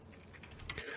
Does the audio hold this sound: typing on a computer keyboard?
yes